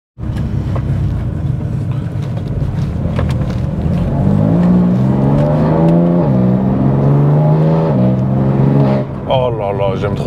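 A BMW 335d with a single-turbo stage 3 diesel engine revs hard and loud up close. The steady roar climbs and falls through rising pitch sweeps, with a voice heard over it near the end.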